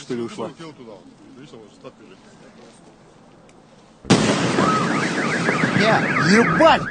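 Car alarms blare together right after a sonic boom over a small town, a loud wall of wailing, warbling sirens that starts abruptly and persists steadily, following a quieter stretch of talking.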